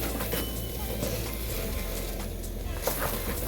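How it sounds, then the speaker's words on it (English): Rice blended with spices for pilau is stirred in a pot over a constant loud sizzle, with a spoon scraping through the grains in a dense, continuous wash of cooking noise. "So at this point again, I will stir my rice."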